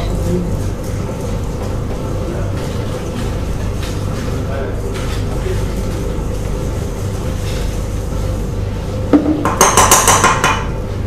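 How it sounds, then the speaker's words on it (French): Melted butter being stirred into sablé cookie dough in a bowl during a pastry workshop: steady scraping and soft knocks of the utensil against the bowl, with a sharper clatter near the end and a voice now and then. "On mélange."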